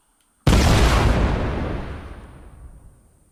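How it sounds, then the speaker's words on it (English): Fire in Fortnite Creative spreading to a hayloft: after brief silence, a sudden loud whooshing burst of flame erupts, then roars on and gradually fades over about three seconds, with no voices. "we hit the button and then watch the fire spread to the hayloft"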